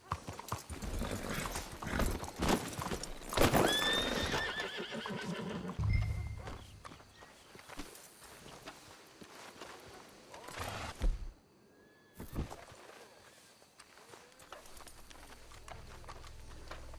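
Horses in Red Dead Redemption 2 whinny loudly and clip-clop along a town street, with hoof beats scattered across the scene, a few sharp neighs early on and steady clopping after a brief pause.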